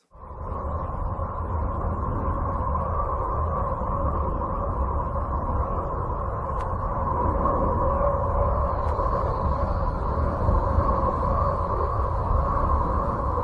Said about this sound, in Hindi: यूरेनस ग्रह की आवाज।